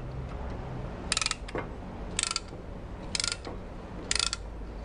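A brake caliper piston tool being cranked gives four evenly spaced bursts of sharp, close ratcheting clicks over a low background hum.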